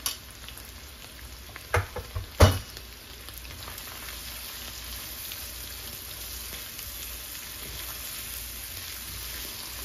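Ground coriander, cumin and spice powder fry in a pan with a steady, close, rain-like sizzle, punctuated early by a few sharp stirring knocks.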